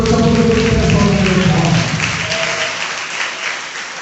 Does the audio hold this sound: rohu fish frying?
no